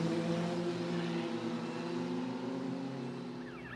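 An FIA Formula Regional race car at the Macau Grand Prix qualifying, its engine droning with a steady harmonic whine, moderately loud and fading slightly, with no talk over it.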